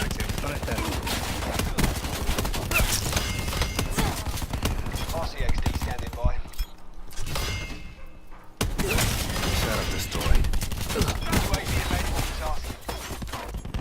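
A GKS shotgun in a video game fires amid loud, busy gunfire and impacts, mostly continuous with a brief quieter gap in the middle, while a voice talks throughout.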